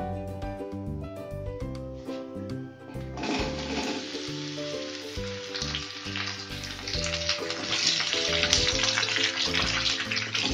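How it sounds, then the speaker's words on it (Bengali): Mango pieces for a sweet-sour-spicy mango pickle hit hot oil with fried tempering spices, bursting into a steady, loud sizzle that carries on under continuous background music. "খুব ভালো করে আমটাকে ভাজতে হবে"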